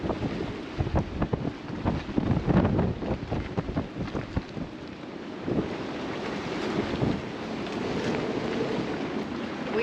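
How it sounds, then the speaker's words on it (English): Strong wind gusts buffet a sailboat riding at anchor, roaring and surging in waves against a constant rush of wind noise and water, loud and close to the microphone for the whole stretch. "It's the gusts. I know you can hear that."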